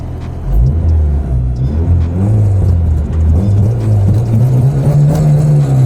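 A Honda Civic with an H2B engine swap idles high at about 1200 rpm, a steady close-up engine drone with a slowly rising pitch and no voices.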